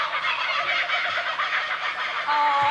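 A person imitates a kookaburra call on a panel comedy quiz show, a steady, loud, chattering run of harsh rising-and-falling hoots lasting a few seconds without a break.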